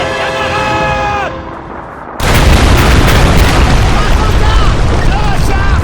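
A building blows up in a multiplayer shooter game, a sudden heavy blast erupting after a quieter stretch of tonal effects, then a loud rumbling roar of debris with distorted sounds on top.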